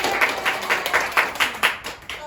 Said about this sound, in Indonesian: tepuk tangan dulu buat Haura.